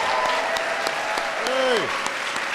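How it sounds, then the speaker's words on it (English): An audience at a national arts and humanities medal ceremony applauds an award recipient, steady close clapping with a couple of whooping cheers rising over it. "Let's give one more big round of applause to our outstanding recipient."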